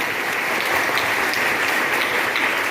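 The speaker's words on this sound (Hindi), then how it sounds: "ताली बजाइए इनके लिए।" Steady, dense clapping from a seated audience at a Hindi motivational talk, applauding a participant; the applause holds loud and even throughout without anyone speaking.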